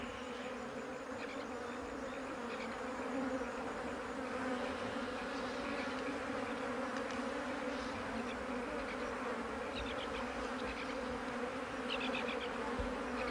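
Swarm of flies buzzing around an animal carcass on the African savanna, a dense, continuous droning hum with individual insects whining past, steady and close throughout.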